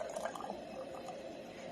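Peach lemonade concentrate is poured into canning jars, a faint, soft trickle of liquid with a few small splashes, quiet and steady throughout.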